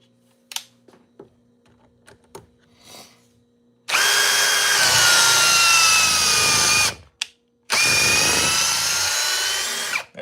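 A power tool drives out an 8 inch TimberLok timber screw in two long, loud, steady whirring bursts, each lasting a few seconds and separated by a short break, following a few faint clicks and knocks.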